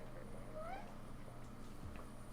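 A pet cat gives a short, rising meow, fairly faint against a steady background hum, with no one talking over it.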